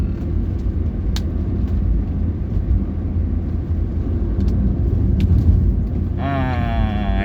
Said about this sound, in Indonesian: mobil sayurnya kita lewati teman-teman